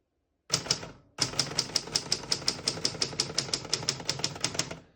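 Typing on a 1964 Adler J4 vintage portable typewriter: a brief burst of keystrokes, a short pause, then a steady rapid run of sharp, close mechanical clacks, loud and alone.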